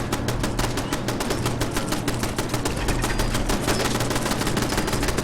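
Automated turrets fire nonstop at Mirelurks in Fallout 4: a dense, loud, rapid stream of gunshots with a steady machine-gun rhythm and no pauses.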